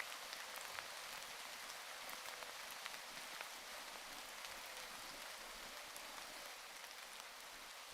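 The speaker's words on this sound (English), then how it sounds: "my rain is a bit too loud" Rain from a horror movie soundtrack falls in a steady, even hiss of drops hitting a surface, heard alone without voices for the whole stretch.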